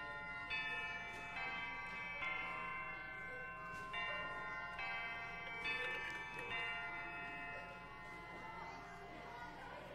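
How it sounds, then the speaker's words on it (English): A school lunch bell rings in the video game Prom Dreams, a run of bright metallic strikes repeating in bursts over a faint crowd murmur. "That's a lunch bell, isn't it?"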